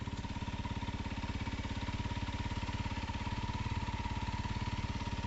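Honda CRF300L motorcycle engine idling steadily after starting, with a fast even thumping pulse held close and constant throughout.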